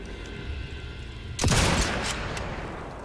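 Unsuppressed sniper rifle shot in Sniper Elite 5, a single sudden loud boom that cuts through the low game ambience and rolls off into a sustained echoing tail.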